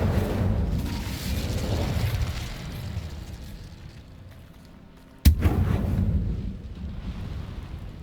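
Incendio fire spell cast in the Hogwarts Legacy video game: a sudden loud whooshing burst erupts late, after a stretch of rumbling, windy game ambience that first swells and then fades.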